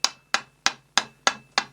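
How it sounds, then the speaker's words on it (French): A narrow-peened forging hammer strikes metal six times in a steady, even rhythm while shaping a hinge pin, each blow a sharp, close, ringing impact that decays quickly, with no talking. "Je vais prendre ce marteau qui a une panne un peu plus étroite pour essayer de faire rentrer"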